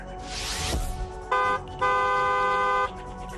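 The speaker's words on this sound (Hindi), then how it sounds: "दूसरों को भी सावधान करने के लिए हॉर्न बजाएं।" A car horn honks in two clear blasts, a short toot followed by a longer sustained one, loud and close over a rushing background.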